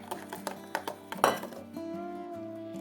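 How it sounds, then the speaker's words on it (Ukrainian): A few light clinks and taps of a utensil against a bowl while stirring egg, milk and salt, then a steady low hum takes over near the end. "Перемішуємо."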